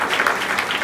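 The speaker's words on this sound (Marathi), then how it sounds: "ह्या गणेशोत्सव स्पर्धेमध्ये सर्व स्टाफसाठी एकदा जोरदार टाळ्या वाजवा." Brief burst of applause for staff at a Ganeshotsav traditional-day competition, a crowd clapping briskly and steadily through the short moment, moderately loud and with no talk.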